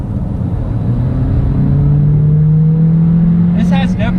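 Inside a 2020 Honda CR-V compact SUV, the engine and road noise swell as the car accelerates, with a steady drone rising smoothly in pitch. The sound is loud and continuous throughout.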